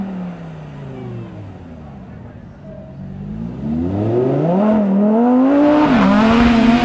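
A Lamborghini Huracán STO supercar accelerates past at a supercar show, its engine note climbing steeply in pitch and growing loud and close toward the end, with no talk over it.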